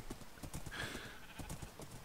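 Minecraft horse sounds in the video game: a steady, rhythmic clip-clop of hooves runs the whole way through at moderate loudness, with a brief whinny-like tone near the middle.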